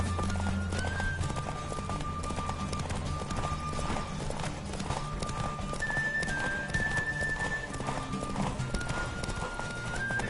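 Rhythmic hoofbeats of a galloping horse in The Witcher 3 pound continuously alongside a horse's whinny, with game music tones and an occasional faint voice in the background.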